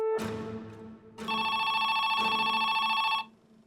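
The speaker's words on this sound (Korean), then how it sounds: "경찰서로 한 통의 전화가 걸려옵니다" Telephone ringing at a police station: a bright electronic ring, loud and close, with a short first burst and then a longer sustained ring that cuts off abruptly.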